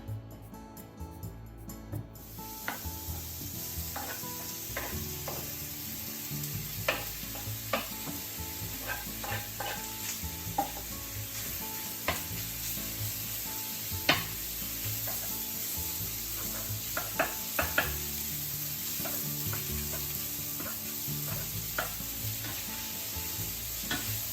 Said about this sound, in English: Heat a frying pan of a medium to medium-high heat and let's cook the pork first.